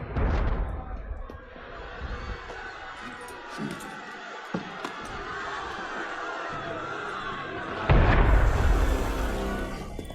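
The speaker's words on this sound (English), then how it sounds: "That was cannon fire." Booming cannon fire in the Assassin's Creed Unity video game, a heavy blast breaking out near the end over a restless crowd ambience, with voices speaking beforehand.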